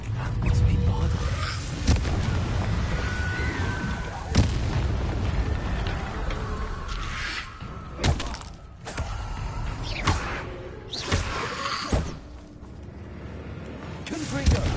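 Bombarda and Confringo spells explode in rapid succession during combat in Hogwarts Legacy on PS5, loud booming blasts and crackling bursts piling over a dense, noisy battle din with no pause.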